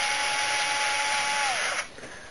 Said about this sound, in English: Start out by removing the float bowls. I use an electric wrench.